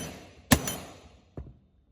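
Two sharp metallic knocks about a second apart, the first loud and ringing, the second duller, as a hammer taps a bearing into a pulley up close.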